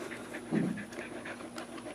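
A dog pants steadily with quick, soft rhythmic breaths while its nails are being trimmed, close and fairly quiet over a faint background hum.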